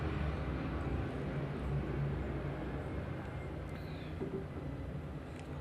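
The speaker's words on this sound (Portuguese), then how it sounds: "Pensei que o avião ia pousar aqui." Airplane flying overhead, a steady low broadband rumble that holds throughout at moderate level, heard indoors as a distant drone with no talk over it.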